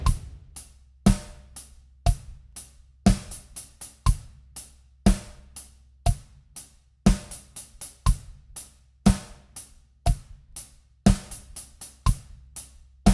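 A crisp drum loop repeats on its own: punchy kick and snare hits at an even tempo with rapid sixteenth-note hi-hat figures tucked between beats.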